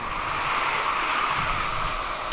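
Steady broadband rush of surf with wind noise buffeting the microphone, continuous and fairly loud, no voices.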